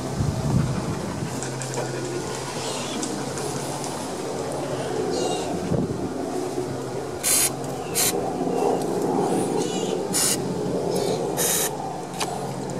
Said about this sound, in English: I'm going to spray that one down.